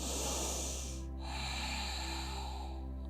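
A slow, airy inhale during an evening yoga practice, soft and close, over a steady low electrical hum.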